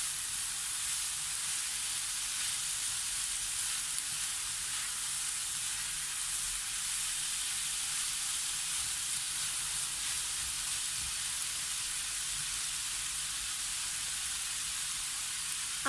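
Spicy string bean stir fry sizzles steadily in a hot pan for the whole stretch, a dense close hiss with faint scrapes of stirring now and then, no voices.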